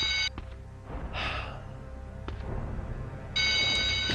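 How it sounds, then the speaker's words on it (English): A shrill electronic alarm from the Batman and Robin PlayStation video game rings in steady pulsing tones, starting loud, dropping back under rumbling game ambience with a few clanks and breathy sounds, then blaring loudly again. "That fucking alarm is really annoying."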